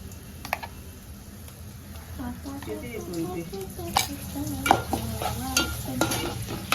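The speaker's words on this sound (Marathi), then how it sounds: "आता मम्मी माझी वाटण टाकते." Ground masala paste going into a hot frying pan, with stirring clatter and scraping over a low steady sizzle, and sharp spoon knocks against the pan in the second half.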